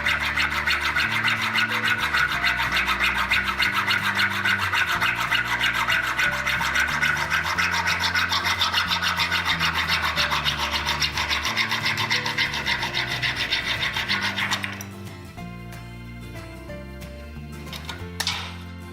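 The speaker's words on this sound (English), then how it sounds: "I'm going to use my hacksaw. What I'm doing now, cut myself a nice square end on the MI" Hacksaw cutting a square end on mineral-insulated (MI) cable, a steady close rasping of rapid back-and-forth strokes for about fifteen seconds, then stopping, with a few faint handling sounds afterward.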